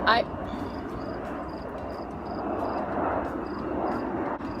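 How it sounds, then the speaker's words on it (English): A broad airplane rumble swells and lingers in the background while people talk, with faint repeated beeps over it. "The airplane's really loud."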